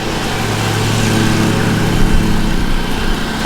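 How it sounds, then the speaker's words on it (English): A lawn mower engine runs steadily nearby on the grounds of a former plantation turned state park garden, a continuous loud drone with no pauses and no talking. "I'm convinced the lawnmower guy is following us."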